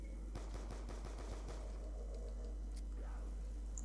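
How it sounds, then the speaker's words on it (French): Rapid gunfire aimed at a row of lined-up zombies in a zombie video game, a quick string of sharp shots early on that thins out over a constant low hum. "Une petite astuce pour tirer sur les zombies, mettez-les tous en ligne et puis tirez"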